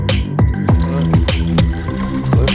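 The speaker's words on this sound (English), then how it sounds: "Because water will fall downward into the pond." A pump-driven fountain on a cement-clay mosaic sculpture spills water into a koi pond, close-up plinking drips and splashes falling in a quick, uneven rhythm.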